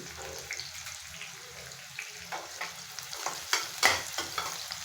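Onions frying in a pan with cinnamon for a vegetable pulao, a steady sizzle with stirring scrapes and a few louder clatters of the spoon against the pan near the end, close up with no talking.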